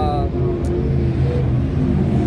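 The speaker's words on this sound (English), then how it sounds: "got the old stock V8." A stock V8 dirt track race car engine rumbles steadily and loudly nearby at a Lakeview track, a dense low roar with no clear revving.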